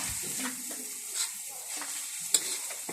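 Garlic and onion sauté in a pan for a cabbage dish, with a soft, fairly quiet sizzle broken by repeated scraping stirring strokes and a brief knock.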